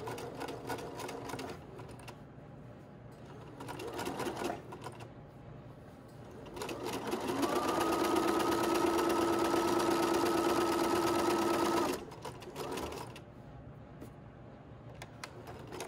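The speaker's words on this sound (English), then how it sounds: "And then just don't forget to secure it with a back stitch." Sewing machine stitching an elastic casing with a back stitch: short bursts of rapid mechanical clatter, then a longer steady whirring run of several seconds, close and clear without talk.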